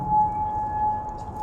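A civil defense air raid siren in Kuwait holds one steady wailing tone throughout, sounding at a distance with no voices over it.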